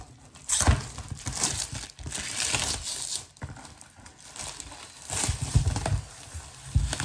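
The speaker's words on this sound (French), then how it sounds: "j'enlève le papier transparent" Crinkly clear plastic wrap being pulled and peeled off a Christmas gift box in bursts of crackling and rustling, close up, with short pauses between tugs.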